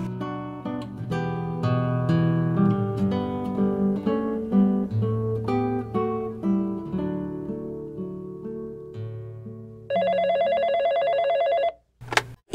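Office telephone ringing as a radio-drama effect: a near, bright electronic ring bursts in after a stretch of music and repeats for a couple of seconds before cutting off.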